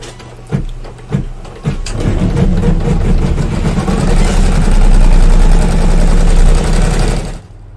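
An embroidery machine stitching out a large quilt block design in royal purple thread, a few sharp knocks and then a steady rapid mechanical whirring and chattering, close, before it stops.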